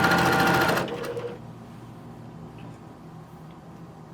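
A sewing machine stitches a shirt placket through two fabric layers in a loud, rapid, steady whir that stops abruptly after under a second. A quiet room hum follows.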